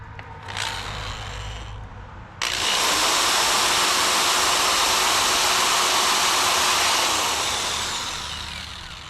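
A power drill spins a step bit through material, first a brief burst, then a sustained loud whine that holds steady for several seconds and slowly tapers off near the end, with no talking.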